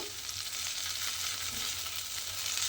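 A Bengali-style spice paste with turmeric, salt and a few grains of sugar fries gently in a pan, giving a soft, continuous sizzle with faint stirring, quiet and without talk.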